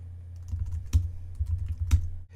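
Code being typed on a computer keyboard: soft, close clicking keystrokes in an uneven rhythm, with a couple of heavier key presses standing out, alone without speech.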